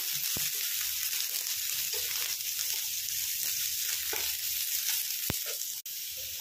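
Capsicum sizzles and fries steadily in a hot pan for an Odia fish curry with paneer, a continuous loud crackle with a few brief clicks and no talking.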